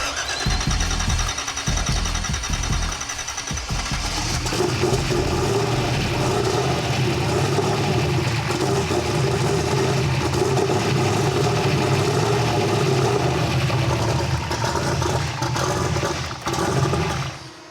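Turbine engine in a 1,000 HP Turbostang Foxbody firing up, starting with clicks and a rising whine, then swelling into a loud, sustained roaring jet-like howl that holds steady before easing slightly at the end.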